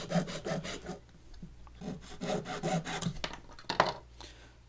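A saxophone reed being sanded flat: a steady run of dry, rasping back-and-forth strokes, close and fairly quiet, pausing briefly and then resuming at an even rhythm.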